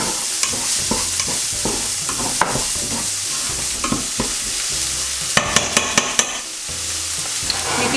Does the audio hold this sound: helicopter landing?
no